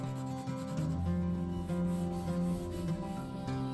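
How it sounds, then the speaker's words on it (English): A wooden flag project is sanded with continuous rough rubbing strokes, a steady abrasive scratching that shifts slightly in pitch as the sander moves across the wood, close and alone. "Now for some sanding."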